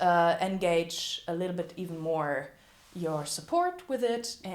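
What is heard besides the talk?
No everyday noises stand out.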